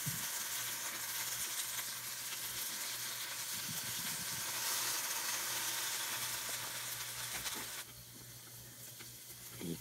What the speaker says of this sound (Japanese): ここに塩を軽く振って両面こんがりと焼き目をつけていきましょう